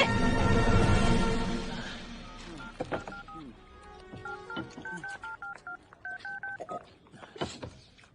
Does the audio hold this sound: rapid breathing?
no